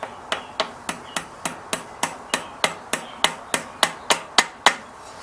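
A part being tapped into place on an old Snapper tiller with a hammer: about sixteen sharp, evenly spaced metallic knocks, close and fairly loud, with no talking.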